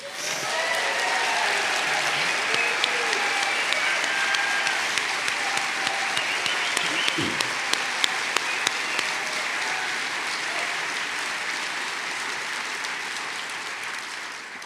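A large crowd at a celebration-of-life memorial gathering applauds for two senators, a thick, sustained wash of clapping that swells early, holds for over ten seconds and slowly tapers, with a few sharper individual claps near the middle.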